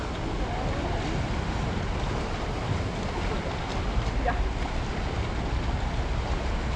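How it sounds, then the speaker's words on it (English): Ocean water rushes and washes into a small rocky alcove at Acadia National Park, a faint, steady wash of surf mixed with wind noise on the microphone. "the way the water rushes into this little alcove"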